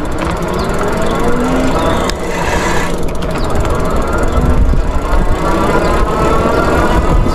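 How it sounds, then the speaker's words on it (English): An electric Troxus Explorer bike picks up speed on its thumb throttle, giving a steady broadband drone of motor and rolling tires mixed with wind rush that stays loud and even throughout. "I'm gonna go with throttle only and see how fast it will go right now"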